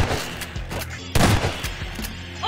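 Gunfire in Garry's Mod rattles out as several sharp shots and short bursts, one especially loud crack midway, with a voice speaking underneath.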